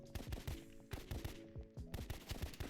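Rapid gunfire in the shooter video game Rivals, dense repeated shots in bursts with brief gaps, loud and close with no voice over it.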